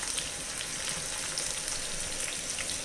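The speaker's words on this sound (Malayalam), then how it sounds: "നമുക്കിതൊന്ന് വഴറ്റിയെടുക്കാം. ഉള്ളി വാടി വരുന്നുണ്ട്." Chopped onion sautés in a pan for tuna fish curry, making a soft, even sizzle that crackles gently and continuously, close by and fairly quiet, with no voices over it.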